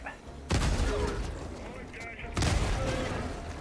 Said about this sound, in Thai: ฉันจะยิงต้านไว้